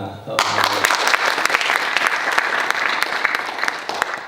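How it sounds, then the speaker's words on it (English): A school talk audience bursts into loud, dense applause after a speaker finishes, steady clapping filling the whole stretch without pause. "Another round of applause for Anna."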